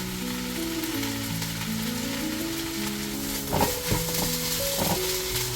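Chicken fries in a pan while being mixed, a continuous sizzle with a steady hum underneath and a few clattering stirs and scrapes toward the end, no voices.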